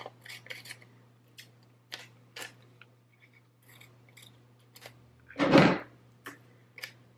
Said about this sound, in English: I'm going to cut off some of the excess.